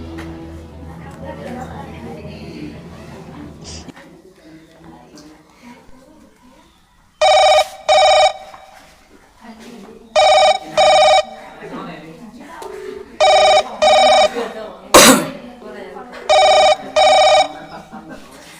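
Telephone on a quiz-show stage ringing for a phone-a-friend lifeline, four loud paired electronic rings at even intervals, following a stretch of talk and a quiet pause.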